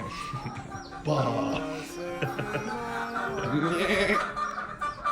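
Several sheep bleat in wavering cries in Iceland, overlapping and fairly close, with some background noise.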